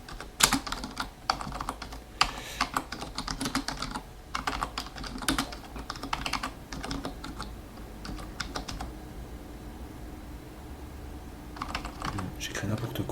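Someone types on a computer keyboard in close, bursty runs of quick clicks with short pauses between them. The typing is light and near, with a faint background hum.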